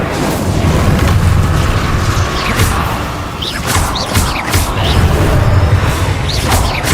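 Fire spells in the video game Hogwarts Legacy burst out in heavy, booming blasts one after another, with crackling bursts over a constant low rumble.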